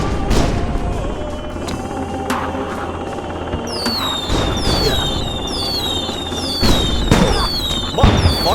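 Missiles explode in the video game Nefarious as a run of sharp booms and crackling blasts, with rising whistling tones streaking over them. They come in irregular bursts and fill the scene at close range.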